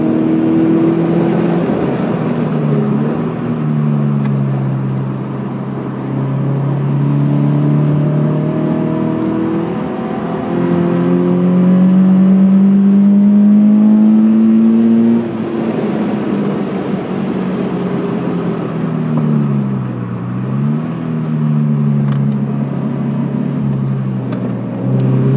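Car engine on a driving course track at St-Eustache, revving up through rising gear pulls, easing off and dropping in pitch under braking, then climbing again, loud and close from inside the car.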